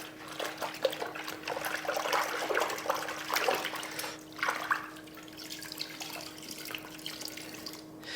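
Wash mitt soaked in a bucket of Labocosmetica Idrosave rinseless car wash water, giving soft continuous sloshing and trickling liquid sounds, quiet and close, with a faint steady hum underneath and no talking.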